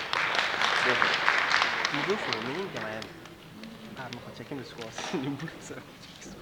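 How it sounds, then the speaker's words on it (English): Conference audience at the AfHEA biennial in Ghana applauding a speaker with a loud burst of clapping that tapers off as voices begin talking over it. "Shall we receive him with the round of applause?"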